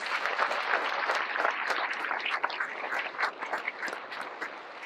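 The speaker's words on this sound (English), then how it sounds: "Please give them a round of applause." Audience applauding three girls after a Bollywood 2024 event speech, a dense, even patter of many hands clapping for several seconds at moderate distance, with no speech.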